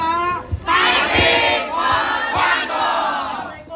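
A school audience at a class 12 MIPA drama performance at Madrasah Aliyah Miftahul Ulum in Darangdan, Purwakarta, erupts in loud, close cheering and excited shouting, voices swelling in bursts across the whole moment.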